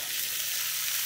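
Pork meat sizzling as it lands in a hot frying pan, a steady, bright hiss of frying fat heard close up and alone for about a second.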